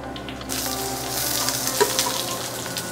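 Cremini mushrooms and red onions hit a hot, oiled frying pan and break into a sudden, steady close-up sizzle that carries on without talk.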